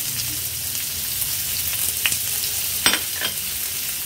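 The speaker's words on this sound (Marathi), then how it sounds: "आता कांदा छान मऊ होईपर्यंत शिजवून घ्यायचा आहे।" Finely chopped onion with green chilli and ginger-garlic paste frying in oil with asafoetida and cumin in a pan for dahi aloo sabji, a steady close sizzle with a few sharp stirring scrapes, no talking.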